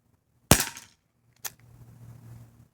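Bear River 4-inch revolver fired at a row of cans outdoors: one sharp, loud report, followed about a second later by a fainter impact as a can is hit, then low background hum.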